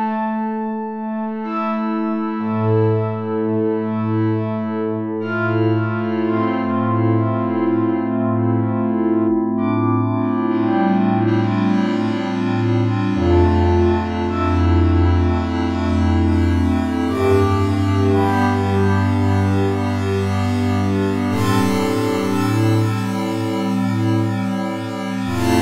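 A Yamaha Reface DX synthesizer played alone as sustained chords and layered notes with a processed, effected tone, the bass and harmony shifting every few seconds and brightening as the passage builds.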